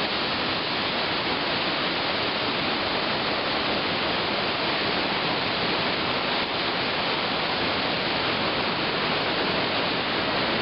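Floodwater in a raging creek feeding into Loyalsock Creek rushes beneath a bridge, a dense, steady roar of churning water that holds loud and unbroken throughout.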